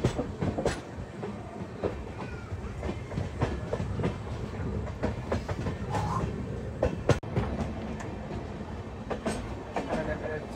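The Shantiniketan Express rolls into Khana junction, its wheels clattering over points in an irregular clickety-clack beneath a steady carriage rumble, with sharp metallic knocks and bursts of voices aboard the train.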